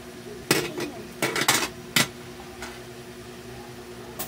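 A lid set onto a cooking pot of bitter gourd dish, a few sharp metallic clanks and clatters close by, followed by a quieter background with one faint knock near the end.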